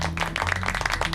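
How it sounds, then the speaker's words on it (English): A brief burst of clapping from a small group, close and lively, with a low hum underneath. "Round of applause for Team Pickle, man."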